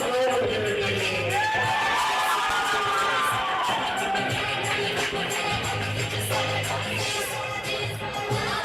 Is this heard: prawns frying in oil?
no